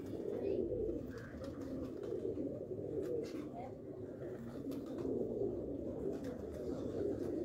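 Sialkoti pigeons coo in a steady, low, throaty murmur at a breeder's loft, the sound rolling on throughout with faint chirps and clatters mixed in.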